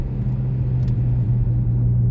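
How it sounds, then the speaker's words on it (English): A car cruises along the road from inside, a loud steady low engine and road rumble with a constant drone, no talking. "I'm trying to get the speeds up on this car so y'all can hear again."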